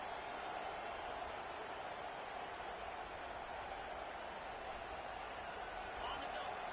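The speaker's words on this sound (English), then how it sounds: "Listen to this crowd just shaking the girders of this place, trying to help their defense." Stadium crowd roaring at a football game while the home defense is on the field, a dense, sustained wall of cheering and noise with a commentator's voice speaking over it.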